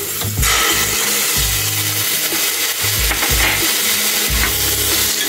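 Onions and ginger garlic paste sautéing in a pan for biryani, steady sizzling and frying under repeated scraping strokes of a spatula against the pan, close and loud, no talk.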